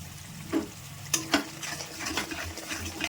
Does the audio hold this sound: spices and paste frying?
yes